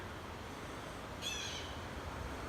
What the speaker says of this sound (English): Birds are going crazy out here.